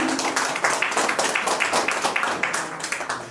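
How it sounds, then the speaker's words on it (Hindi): Audience at a corporate pre-launch event for an Indian herbal company claps in unison, a loud, rhythmic beat of synchronized applause pulsing at a steady pace throughout. "ये तालियां आप जो बजा रहे हैं"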